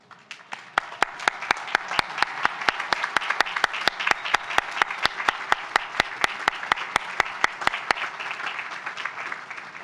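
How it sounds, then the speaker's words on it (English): A commencement audience at UNC Asheville's spring graduation applauds the graduates' parents, family and friends, with steady, fairly loud clapping over about ten seconds and sharp individual claps standing out within the dense, sustained applause. "will you please stand so we may applaud you?"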